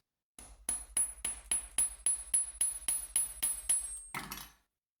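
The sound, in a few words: hammering thin wire head pins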